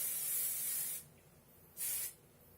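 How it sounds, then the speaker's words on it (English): Hairspray hisses from an aerosol can onto hair in two bursts, a long spray of about a second followed after a pause by a shorter one, close and fairly soft in a quiet room. "Then throw some hairspray in there."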